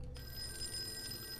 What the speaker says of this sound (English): The phone is still ringing